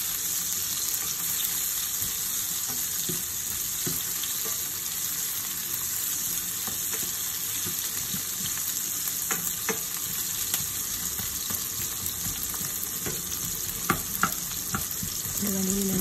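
Onions sautéing in a pan, a steady close sizzle with frequent spatula scrapes and stirring clicks running the whole way, no voices over it.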